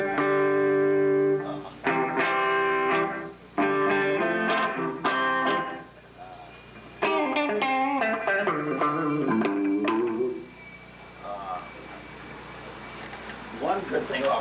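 Clean electric guitar from a Carvin setup played in bursts of chords and single notes, with short pauses between phrases and a quieter picked passage near the end, up close and clear.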